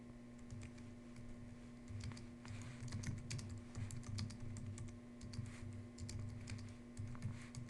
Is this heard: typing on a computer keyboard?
yes